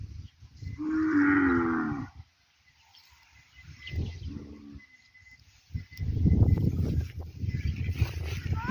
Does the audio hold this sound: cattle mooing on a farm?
yes